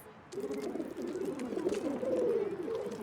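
Pigeons coo in a cartoon scene, a steady run of soft, warbling low coos at moderate volume across the whole stretch, with no talking over them.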